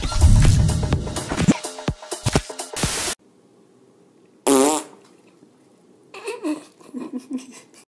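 Prank fart sounds aimed at startled animals, loud and close, come in several bursts with abrupt gaps of near silence between them, some raspy and drawn out, others short and sputtering.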